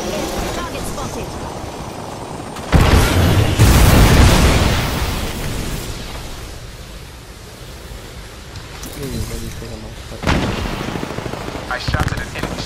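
Gunfire from Apex Legends, with a loud burst of shots near three seconds, a second sharp volley around ten seconds, and scattered game effects and ambient noise in between.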